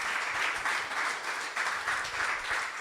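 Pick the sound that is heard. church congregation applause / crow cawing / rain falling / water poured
church congregation applause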